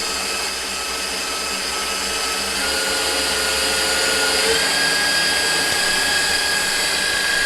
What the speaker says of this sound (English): Now we're up to level 8 on this mixer. It's quite noisy